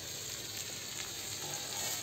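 Onion and potato frying in a pan give a steady, close, even sizzle with fine crackling throughout, no talk over it.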